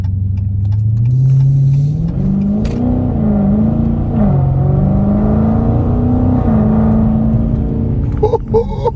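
A Dodge Scat Pack fitted with a pedal box accelerates under light throttle, its engine drone rising and holding in a loud, steady rumble up close before easing off near the end.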